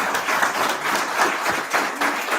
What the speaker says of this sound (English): big applause to Anna.